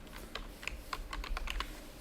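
Rapid keystrokes on a computer keyboard as a database name is typed, a quick run of close, crisp clicks over a soft steady background hum.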